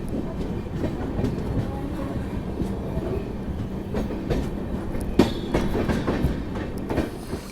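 Steady rumble inside a moving Indian passenger train coach on a journey to Kashi, a loud continuous roll of wheels on track with faint clickety-clack and a brief squeal-like clank midway, no clear talk.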